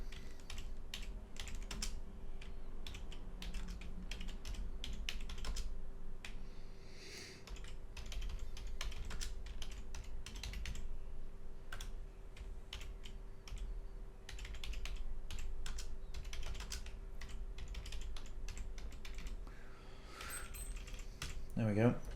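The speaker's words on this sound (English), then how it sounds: "So apologies for the typing because I'm dead slow at typing" Slow, irregular typing on a computer keyboard, soft individual keystrokes tapping steadily in a quiet room at low volume.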